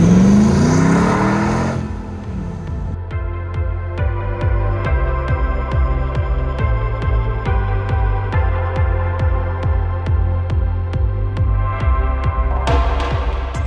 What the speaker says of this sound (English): Tahoe Blue is powered by a LS3 engine.